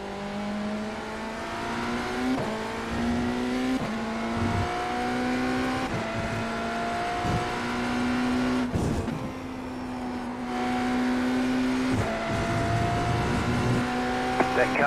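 Hypercar race cars at Catalunya in a racing video game, a loud steady engine whine rising and shifting through gears as cars pass, with someone talking over it.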